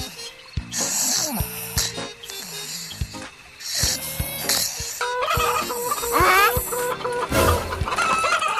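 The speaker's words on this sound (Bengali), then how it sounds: "এত রাতে মুরগি চিল্লাচ্ছে কেন" Chickens squawk and cluck repeatedly at night in agitated bursts, fairly close, with some rustling between calls.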